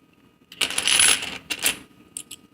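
Pre-1965 90% silver quarters drop and clatter onto one another, a bright jingling cascade of metallic clinks followed by a couple of smaller settling rattles, close and alone.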